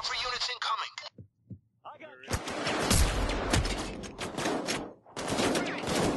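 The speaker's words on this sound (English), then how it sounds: "Why is my gun firing single shots now?" Gunfire in the PayDay 2 video game during a Diamond Store heist on hard mode, with a run of loud rapid shots and clattering bursts that follows brief talk and a few isolated thumps.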